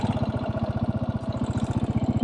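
Janus Halcyon 450 motorcycle with a single-cylinder engine running close by, a steady, even thumping pulse at idle-like pace, heard alone.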